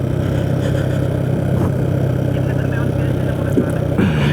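A motorbike engine hums steadily while riding a forested hill road toward Ruma in Bandarban, a continuous close drone with slight pitch shifts and a brief rise near the end.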